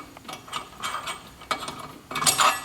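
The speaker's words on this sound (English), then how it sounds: "Had to rig up a puller to get this off" Improvised puller being worked to draw a stuck part off, giving a series of close, irregular ratcheting clicks and metallic scrapes in short bursts, with no talk.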